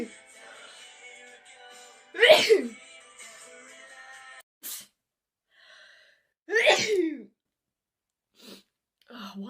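A woman sneezes twice, each a sharp, close burst several seconds apart, with small breaths and faint background noise between them.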